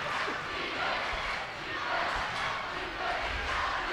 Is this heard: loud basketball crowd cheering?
yes